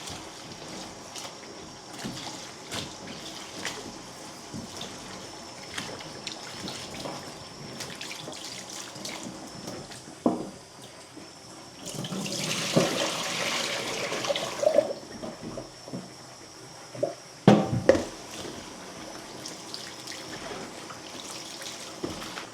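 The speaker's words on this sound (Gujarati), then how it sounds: "અહીંયા પાણી લઈ અને ગવાર, રીંગણા અને ટમેટાં બધું મસ્ત રીતે ધોઈ નાખીએ" Guar beans, eggplants and tomatoes get washed in water, with faint trickling and splashing that swells into a louder run of pouring midway, plus scattered clinks and handling knocks.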